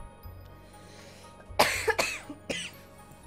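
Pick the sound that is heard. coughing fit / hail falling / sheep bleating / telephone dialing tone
coughing fit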